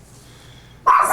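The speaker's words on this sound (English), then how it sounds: "Sorry about my dog." A dog lets out a single sudden loud bark close by after a quiet room hum.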